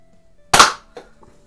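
An airgun fires once at close range, a sharp loud crack with a short tail, followed by a fainter impact or echo moments later, an outdoor shooting setup with a hanging shotgun-shell target.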